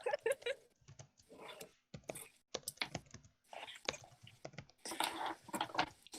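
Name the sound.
computer keyboard typing in the background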